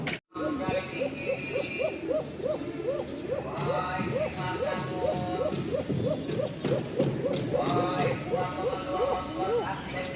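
A male Bashiraj pigeon with a thin call coos in repeated rising-falling phrases, steady and close, layered over other birds cooing and a busy loft background, with a faint voice in the mix.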